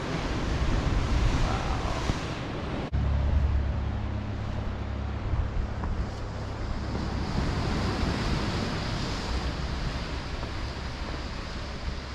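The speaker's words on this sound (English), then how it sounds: "And the water is crashing in below." Steady, roaring ocean surf crashing below sea cliffs on the Algarve coast of Portugal, a continuous wash of breaking waves mixed with wind buffeting the microphone, with a sharp shift in the rumble near the start.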